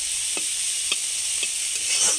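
Icha shrimp crackle as they fry in a pan of oil, a constant hiss with several distinct scraping stirs spaced across the short stretch.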